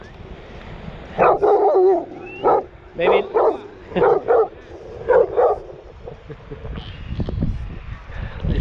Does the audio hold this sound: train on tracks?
no